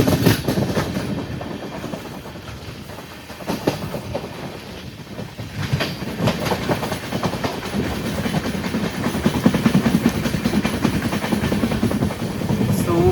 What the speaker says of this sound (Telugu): ట్రైన్ చాలా హెవీగా పడుతుంది.